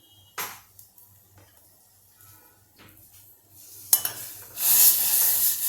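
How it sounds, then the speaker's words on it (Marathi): Oil tempering (phodni) in a tadka pan on a stove starts with a brief hiss, then after a few quiet clicks builds into a sustained, loud, close sizzle for the last two seconds. "मी इकडल्या शेगडीवर भुजण्याची फोडणी करून घेत आहे"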